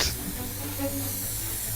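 Rubber adhesive spray hisses from a can in one steady, close burst lasting the whole moment, with no talk over it.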